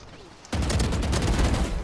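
Rapid gunfire in the tactical shooter Valorant bursts in after a quiet half second and keeps up as a dense, loud volley to the end.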